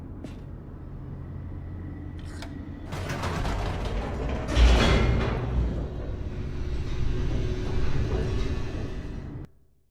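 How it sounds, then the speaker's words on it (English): An elevator in The Stanley Parable video game rattles and clanks with grinding gears and ratcheting metal, swelling into a loud rushing rumble as it descends, then cutting off abruptly at the end, with no talk. "The elevator raced downward, plummeting towards an unknown fate."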